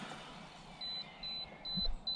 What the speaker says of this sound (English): I don't know why this is beeping at me.